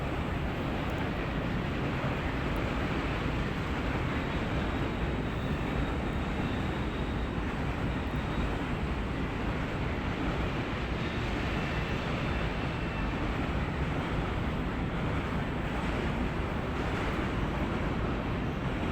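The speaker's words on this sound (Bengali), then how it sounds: "উপর থেকে ব্রিজের উপর থেকে ট্রেন যাচ্ছে ভালো লাগছিল খুব আর প্রচণ্ড আওয়াজ হচ্ছিল" A train rumbles across a bridge overhead, a loud, continuous low roar and clatter heard from below that holds steady for the whole stretch without any speech.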